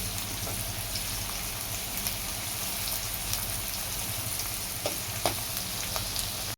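Onion fries in oil for homemade pohe, a dense, even sizzle with scattered small crackles and pops running steadily from start to finish, close and fairly loud, with no talking.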